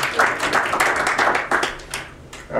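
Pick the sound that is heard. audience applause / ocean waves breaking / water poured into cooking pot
audience applause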